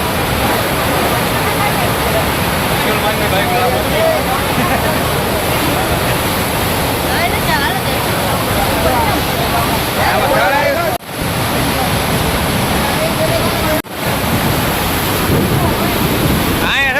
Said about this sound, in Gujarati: પાવાગઢના ડુંગરમાંથી પાણી આવે